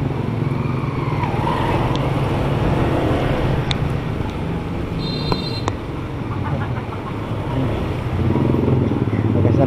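A motorcycle engine drones steadily through rain and road noise, close and continuous for the whole stretch, with a few faint clatters and no clear speech.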